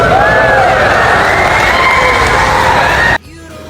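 Wedding guests cheer and shriek as the bride and groom kiss, a loud, dense crowd roar with high excited voices that holds steady, then cuts off abruptly near the end, leaving quieter room sound.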